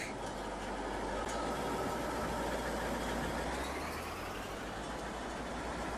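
A heavy harvester engine in Farming Simulator 19 drones steadily at idle, a dense continuous rumble with a faint high whine, no other sounds standing out.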